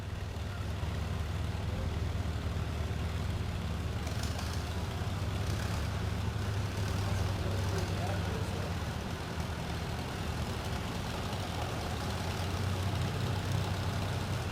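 A vintage farm tractor, its owner's first since 1957, rumbles along in a threshing bee parade in Jewell County, Kansas, a continuous low engine drone with steady crowd and outdoor background noise, faint voices in the distance.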